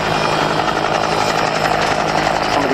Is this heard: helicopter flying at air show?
yes